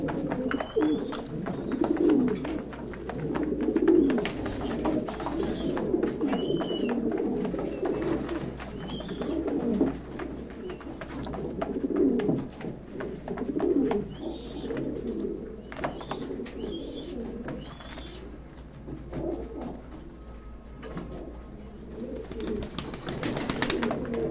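Pigeons coo steadily in a loft, a crowd of overlapping low, throaty calls close by, with a few brighter chirps and flutters mixed in over a constant background murmur.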